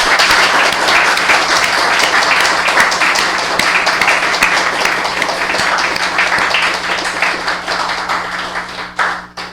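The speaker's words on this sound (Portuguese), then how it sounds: "que todos nós desse uma salva de palmas para ele" An audience at a public spiritist lecture in Ubatuba claps in a loud, sustained round of applause that continues evenly before tapering slightly at the end.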